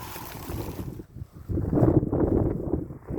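An outdoor breeze buffets the microphone with low, rumbling gusts that briefly ease, then return stronger and keep blowing; no speech is heard.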